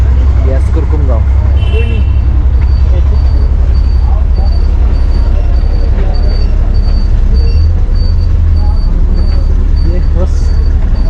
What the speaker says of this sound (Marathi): गाडी बघत असताना पाठीमागे कुरकुमची गाडी आलेली आहे